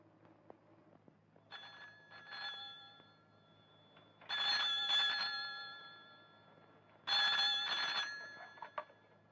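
An old telephone rings in a classic Egyptian comedy film, sounding in three bursts of bright bell trills separated by pauses against a quiet room.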